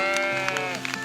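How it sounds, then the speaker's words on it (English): A sheep bleating outdoors near a campsite in the woods, one wavering, drawn-out call lasting about a second, fairly close and clear. "And there's a sheep as well."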